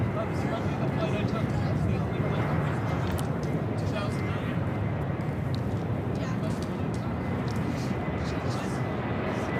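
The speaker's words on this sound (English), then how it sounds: "The JetBlue A321neo coming in from West Palm Beach, Florida" JetBlue A321neo airliner arriving from West Palm Beach, a broad steady engine roar throughout while people talk over it.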